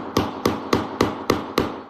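A hammer taps a DIY home decor piece six times in a steady, evenly spaced rhythm, each strike sharp and close with a short ringing decay, no voices.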